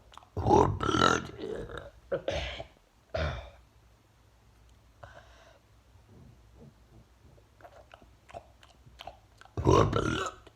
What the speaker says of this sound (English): This is the way you burp.